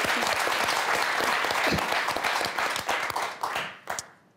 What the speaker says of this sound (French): Et si on applaudissait Monique?